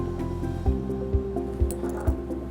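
Tiny drops of water fall into gasoline, making four soft, evenly spaced squishy drips close by over a low steady hum.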